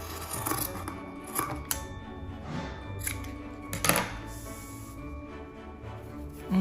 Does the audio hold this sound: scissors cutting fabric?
yes